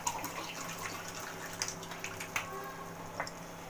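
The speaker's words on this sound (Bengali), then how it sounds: "এবার এটার মধ্যে আমি জল অ্যাড করে দিচ্ছি" Water poured into a cooking pot of dried fish and bean seed curry splashes and trickles close by for a few seconds, with small clinks and drips breaking through the flow.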